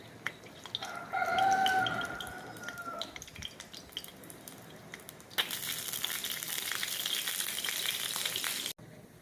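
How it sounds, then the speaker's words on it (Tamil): Banana appam batter made with palm jaggery drops into hot ghee and sizzles, the steady frying hiss swelling loudly partway through, with a rooster crowing in the background early on. "நெய் சூடானோடனே இதை கொஞ்சம் கொஞ்சமாக இதில் விட்டுடலாம்."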